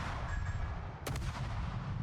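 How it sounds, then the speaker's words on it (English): Ship guns in a naval video game firing slow rounds: a single sharp report about halfway through, over a dense, steady roar of engine and sea ambience, with no voices. "You just keep shooting."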